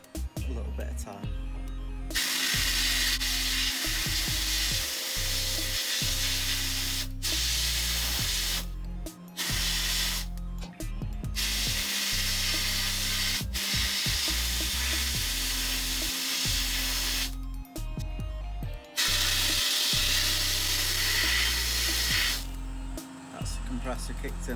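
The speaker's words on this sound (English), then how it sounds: "Compressor kicked in already." Sandblasting inside a DIY glass-fronted blast cabinet fed by an air compressor: a loud, steady hiss of spray in bursts with brief pauses, over the deep drone of the compressor running throughout.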